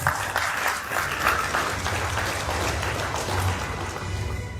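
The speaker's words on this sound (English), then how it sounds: "Please give them a round of applause" Audience applause at a Royal Virgin Islands Police Force closing ceremony for community policing and law enforcement training, moderate continuous clapping from a seated crowd with low background murmur.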